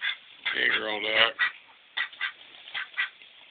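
A female duck at an animal sanctuary gives one close, raspy quack followed by a run of softer, shorter calls, with a voice speaking briefly nearby.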